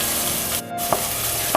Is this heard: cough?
no